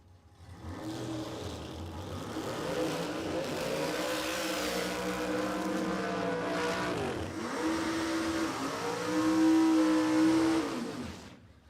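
Drag racing cars launching down the strip at Warwick Dragway in Australia, a loud engine roar that builds, holds and sweeps away, then swells again toward the end, with no talk.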